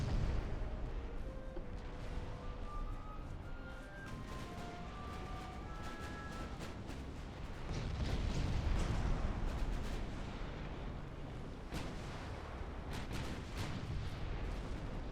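Naval gunfire in the warship battle game Ultimate Admiral: Dreadnoughts, with battleships engaging a heavy cruiser: repeated deep, rumbling cannon booms and sharp reports, fairly faint, over a sustained swell of battle noise and scattered tonal game cues.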